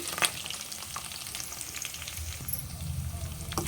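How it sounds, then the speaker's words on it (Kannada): Chopped onions tipped into green chilies frying in hot oil for a cabbage dish, heard as a steady close sizzle with a few sharp clinks and a brief stir scraping, and no talking. "ಮೆಣಸಿನ್ಕಾಯಿ ಸ್ವಲ್ಪ ಫ್ರೈ ಆದಮೇಲೆ 2 ಈರುಳ್ಳಿನ ಚಿಕ್ಕದಾಗಿ ಕಟ್ ಮಾಡ್ಕೊಂಡು ಹಾಕ್ತಾ ಇದ್ದೀನಿ."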